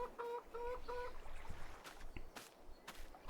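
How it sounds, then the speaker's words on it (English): Chickens cluck in a chicken barn in the Farming Simulator 22 game, a few rhythmic clucks at the start followed by scattered sharper calls, moderately close and with no talking. "here you have the base game chicken barn with some chickens already."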